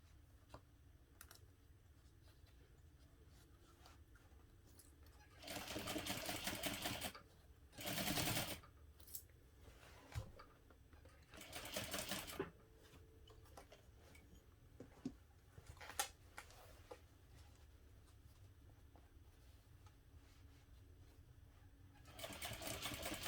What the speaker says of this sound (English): And you can sew directly over the zipper.